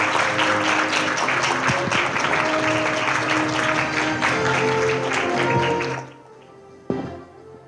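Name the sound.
audience applause for the Secretary General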